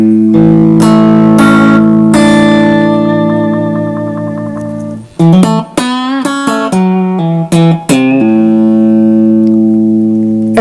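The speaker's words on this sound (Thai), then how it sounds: "เสียงคลีนกีตาร์นะครับ กีตาร์ซิงเกิลคอยนะครับทรงเฟนเดอร์นะครับ" A clean, bright single-coil Fender-style electric guitar playing sustained chords and short picked phrases, ringing with a little reverb, loud and up close with no voices.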